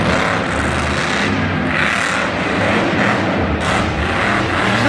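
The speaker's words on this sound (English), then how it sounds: "I love the sound of this truck. It really sounds great." A monster truck at a Monster Jam show in Santa Clara, 2018, roars continuously with a loud, rumbling engine that swells and revs over a steady arena din.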